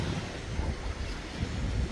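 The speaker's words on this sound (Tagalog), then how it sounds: "sarap pakinggan ng ingay ng mga bata, ng mga tao, tapos ng alon." Waves wash steadily onto a beach in Spain, a continuous broadband surf roar with wind-like hiss throughout; no distinct voices stand out.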